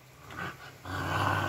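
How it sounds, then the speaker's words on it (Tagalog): Family dogs growl in short low rumbles, a brief snarl followed by a longer sustained growl, close and fairly quiet. "Yan ang mga aso namin, si Bantay, si Putol, Si Shine."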